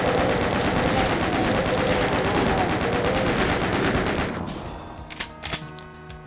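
A chaingunner enemy in the Doom map Arrival lets off a dense, rapid stream of gunfire that holds for about four seconds and then fades, followed by a few scattered thuds and impacts, with no voices.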